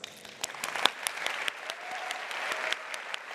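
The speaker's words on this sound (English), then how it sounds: "please join me to have a warm round of applause for all the scientific" Applause at a scientific conference closing ceremony, fairly faint and distant, with scattered distinct claps over a soft background of clapping.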